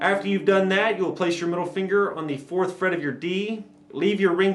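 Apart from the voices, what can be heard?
No everyday noises stand out.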